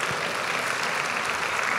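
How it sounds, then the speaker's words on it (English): A church congregation claps during a sermon, a steady dense wash of applause at even loudness throughout, with no speech over it. "let us clap for his honesty"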